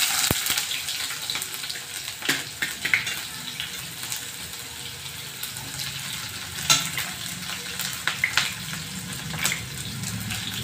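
Onions fry in a pan until reddish-brown, giving a continuous crackling sizzle with scattered sharp stirring clicks and scrapes close by.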